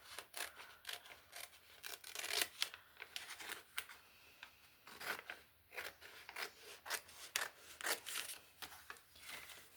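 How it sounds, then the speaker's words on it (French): Scissors cut through paper pages in a craft notebook, a close, quiet run of crisp snips and rustling slides in an uneven rhythm, with no talking. "Je vais essayer de découper au mieux."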